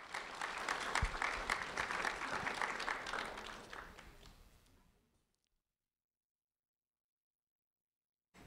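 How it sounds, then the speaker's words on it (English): An audience applauds a third-grade student receiving a sheriff's office award at a ceremony, steady dense clapping for about four seconds that fades out, followed by silence. "a round of applause for Gabriela Tabares, please."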